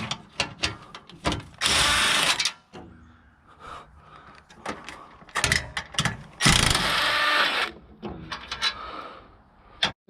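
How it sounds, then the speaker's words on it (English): Ratcheting and mechanical clicks while bolts come out of a 2010 Nissan Rogue S AWD salvage SUV, with bursts of rapid tool whirring and scraping between quieter pauses, close and loud. "So now I need to go ahead and actually pull these bolts out."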